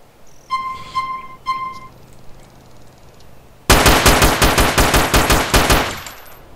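A rapid burst of about a dozen loud gunshots from two weapons fired at once in GTA San Andreas, close and evenly spaced, preceded by faint electronic beeps and weapon-handling clicks.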